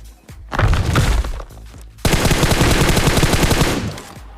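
Rapid automatic gunfire in a mobile battle royale video game as players shoot bots: a short burst, a pause, then a long sustained volley of close, loud shots with no talking.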